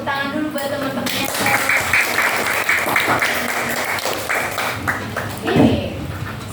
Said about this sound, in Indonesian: Kasih tepuk tangan dulu buat teman-temannya.